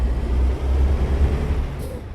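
A Peterbilt 389 truck with a Cat C15 engine rumbles loudly with a deep, steady low-end roar as its engine brake runs, briefly broken by a short hiss near the end.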